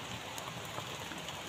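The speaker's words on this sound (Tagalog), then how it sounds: "Umuulan mga idol." Rain falls in an even, soft hiss with faint patters on a surface, steady and unbroken throughout.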